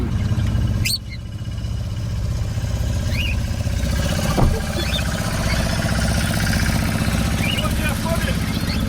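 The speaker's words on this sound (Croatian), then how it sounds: "Traktor se polako probija seoskim putem." A tractor travels slowly along a dusty village road in late summer. It gives a steady, low engine drone that continues throughout, with faint bird chirps above it.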